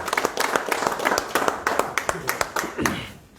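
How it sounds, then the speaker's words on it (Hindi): Audience clapping welcomes people joining the BJP at a political event in Surankote, Jammu and Kashmir: scattered, irregular hand claps from a moderate crowd, fairly close, with speech mixed in, fading out at the end. "तालियों के साथ इस्तकबाल करें"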